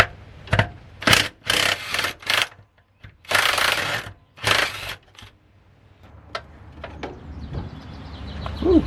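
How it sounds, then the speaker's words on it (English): Rusty seat bolts in a 1989 Dodge D100 are unbolted with a ratchet, giving bursts of loud, close rasping clicks in quick rhythmic runs, separated by pauses and a few lighter knocks. "let me unbolt these, and then we'll pull this seat out"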